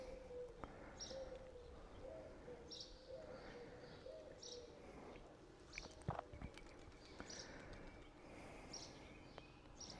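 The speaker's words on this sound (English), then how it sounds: "Literally the only sound is a pigeon." A pigeon coos in soft repeated phrases on a quiet street in Cuéllar, faint and somewhat distant, with a few light clicks and scuffs and a low background hum.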